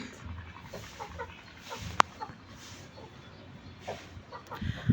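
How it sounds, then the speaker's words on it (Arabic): Chickens in a rooftop coop cluck softly amid low background noise, with one sharp knock partway through and a louder rustle near the end. "محمد بينظف اوضه الفراخ اللي هناك اهي"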